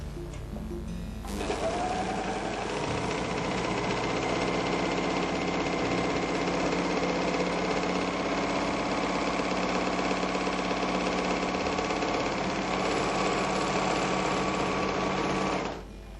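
A MerrylocK 3000CL serger machine stitching fabric runs in one steady, continuous mechanical whir for about fifteen seconds, then stops abruptly. No one speaks.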